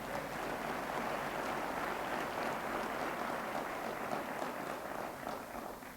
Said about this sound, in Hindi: जोरदार तालियां हो जाए अपने लिए